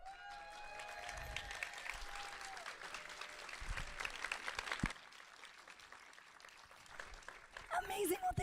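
An audience at a live sustainability awards event applauding a group of emerging leaders, sustained clapping that builds then drops off partway, with a brief swell again near the end.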